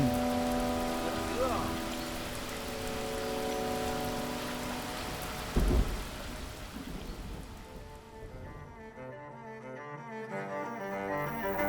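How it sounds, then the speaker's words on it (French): Light rain falls steadily over a campsite in rural France, a soft continuous patter that fades into quieter, sparser drops toward the end, with a brief louder knock midway. "Après les jours de canicule que l'on s'est tapé, une petite pluie ne va pas faire de mal"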